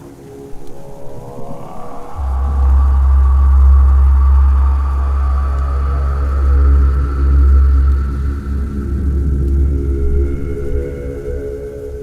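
Deep, heavy rumbling rolls on continuously and loudly for several seconds, like thunder booming close by, with no talking.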